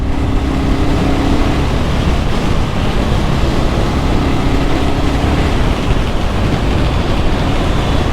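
Motorcycle engine, a BSA Goldstar or Enfield 650, pulling hard at about 4,000 RPM while riding, a loud continuous roar buried in heavy wind rush, no talk heard.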